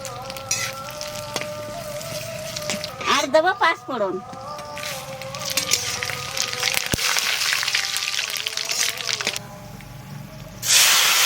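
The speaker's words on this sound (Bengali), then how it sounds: "তেলের মধ্যে দেবো তেজপাতা শুকনো লঙ্কা" Bay leaves and dried chillies drop into hot oil for khichuri, with a hissing sizzle rising midway and persisting under people chatting nearby.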